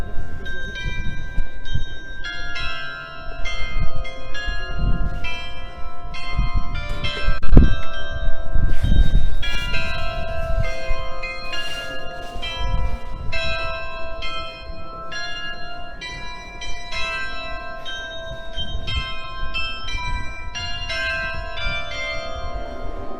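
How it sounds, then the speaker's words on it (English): Cathedral bells in Düsseldorf peal steadily, several bells ringing in overlapping tones, loud and resonant outdoors, with faint street noise beneath. "Oh, there's the bells ringing."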